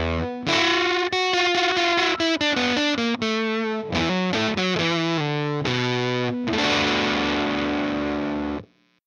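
An electric guitar runs through a Tone Hungry Effects Fuzz Cream fuzz pedal, a loud, thick, sustained distorted melodic line of changing notes that rings out and stops abruptly.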